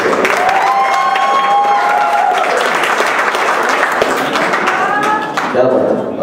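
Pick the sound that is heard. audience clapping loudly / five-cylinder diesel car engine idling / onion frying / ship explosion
audience clapping loudly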